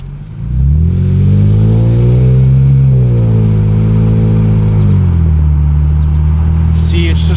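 An Infiniti Q60 fitted with a new aftermarket exhaust pulls away at low revs around 2000 RPM, a loud droning rumble rising then settling as it shifts, close and continuous.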